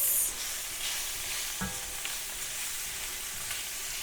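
Potatoes and spices, including garam masala, cooking in a pan for samosa filling, giving a soft, steady sizzle with an occasional stir or scrape, fairly quiet and close.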